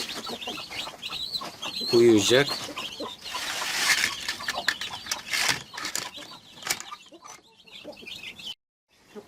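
Young chicks from a brooding turkey hen's hatch, with guinea fowl among them, cheeping and peeping busily at close range, while a person speaks over them and wings rustle.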